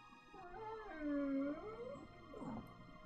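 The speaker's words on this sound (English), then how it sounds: "Sorry about dog whimpers." A dog whimpers indoors in a long, wavering whine that rises and falls, close and fairly loud, with a second shorter whimper near the end.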